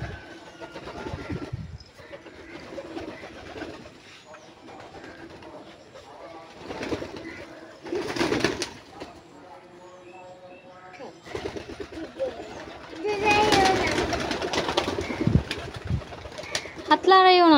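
Pigeons coo intermittently while being fed paddy grain by hand, with bird calls rising and falling under frequent nearby talk and some handling noise.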